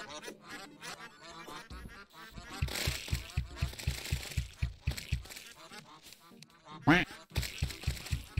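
Duck quacking in the video game Terraria: a rapid, steady series of loud, nasal quacks that runs on for several seconds, with a brief pause and a few louder honks near the end.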